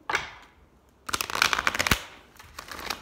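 A deck of angel oracle cards is shuffled by hand, a brief riffle at the start, then a louder run of rapid papery flutters and slaps, and a last short burst, close with no talk.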